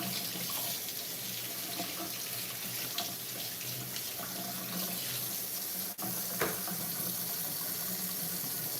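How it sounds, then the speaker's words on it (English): A kitchen tap runs steadily while sticky hands are rinsed under it, a continuous close water hiss with faint splashing and a brief knock partway through. "Just rinsing my hands because they got like overly sticky."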